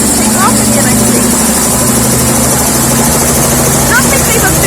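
New helicopter at a fresh helipad for Orlando helicopter tours, its engine and rotors droning steadily and loudly as it takes off, with a persistent broadband roar and faint chirps in the background.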